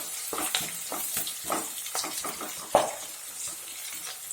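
Onion fries in a pan for egg curry, a soft sizzle broken by a series of irregular scraping stirs and clinks at close range, with no talk.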